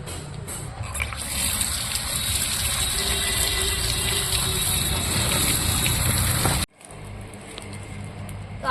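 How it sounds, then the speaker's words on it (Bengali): Water gushes and splashes steadily as mangoes are washed, a dense running wash that cuts off abruptly near the end, leaving quieter background. "আর আম চারটে এখন আমি একটু ধুয়ে নেবো একবারে ধুয়ে নিয়ে যাবো"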